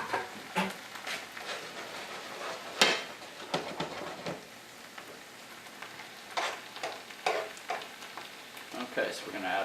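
Vegetables stir-fry with added water in a pan over high heat for a sweet and sour shrimp dish, giving a continuous hissing sizzle broken by scrapes and clinks from stirring, moderately close.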